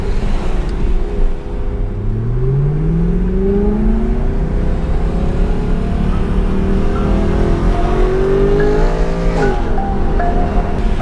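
BMW M3 on the road, engine note climbing and shifting through gears over a steady road and tyre rumble, heard from inside the car with no talking.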